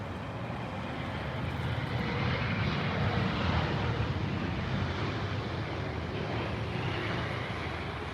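A Lufthansa airliner landing at Heathrow in sunny weather, heard as a broad continuous jet roar that stays loud and steady throughout, with some wind noise.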